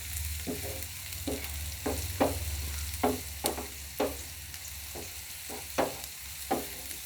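Ginger and garlic tempering in hot oil for potato fried rice: a low steady sizzle with a sharp spoon stroke roughly every half second, close by and with no talking.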